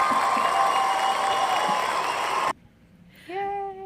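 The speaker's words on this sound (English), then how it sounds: "I'm gonna try and make a cheering noise" Cheering sound effect of crowd applause and cheers, a dense loud wash that cuts off abruptly, followed by a short pause and then a voice speaking.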